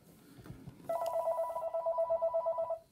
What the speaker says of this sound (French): Je m'excuse pour le téléphone.